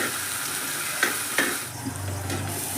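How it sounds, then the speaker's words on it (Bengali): Onions sizzling in a hot pan, a continuous close crackle broken by two sharp utensil knocks and brief stirring, with no voices. "পেঁয়াজটা খুব তাড়াতাড়ি কিন্তু ভাজা হয়ে গেল।"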